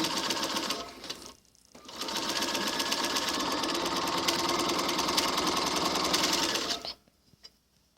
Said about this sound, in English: this is going to roll the fabric over and under and sew right along the edge of that hem